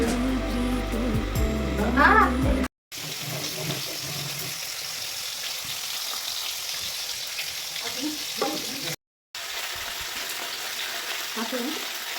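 Vegetables fry and are stirred in a pan after cumin seeds are tempered in oil, with steady sizzling throughout and brief breaks, some clatter early on, and faint voices in the background.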